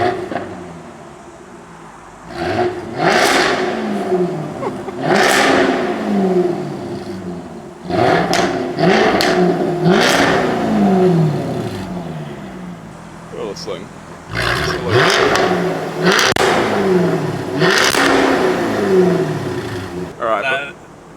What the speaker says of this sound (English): It's actually got a soft limiter on it, so it'll only rev up to 4K when you flip in the throttle like this in neutral